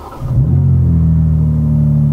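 A 2021 BMW M4 Competition (G82) starts up in Sport Plus mode, cranking briefly and catching into a loud, deep, steady idle rumble heard close by from inside the car.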